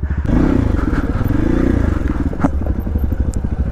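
Motorcycle on a dangerous, unfinished off-road trail, its engine chugging loud and close throughout with clattering and scraping over rough ground.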